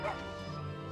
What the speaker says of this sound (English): and it barks, and it jumps